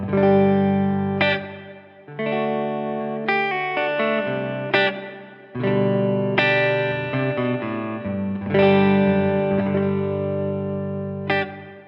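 Electric guitar chords and single notes ringing out through a Hall of Fame Mini reverb pedal with a washy reverb tail and some chorus-like shimmer, played alone with no talking.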